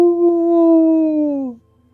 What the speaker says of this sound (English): You all have just been startled by the sound of howling. It sounds very close.